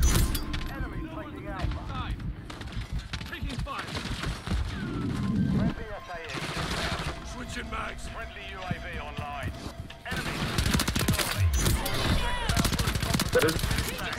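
Gunfire in Modern Warfare 3, including a long-range shot, cracks through a busy match as repeated bursts and single shots, loud and close at times, under steady talk from a player.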